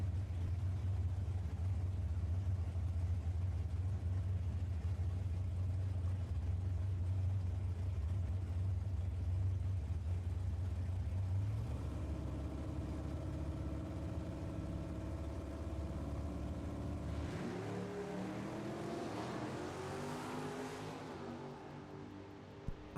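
Drag racing cars at a strip, an Oldsmobile Cutlass and a Chevy COPO Camaro, rumble at a loud, steady idle, then the engine note shifts and rises as they rev and launch hard near the end.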